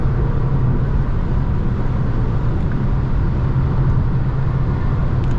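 A steady, loud engine drone from a Ford Focus with about 100,000 km on it, on the move, constant low rumble with road noise and no variation.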